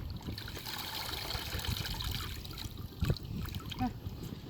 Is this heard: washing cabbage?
yes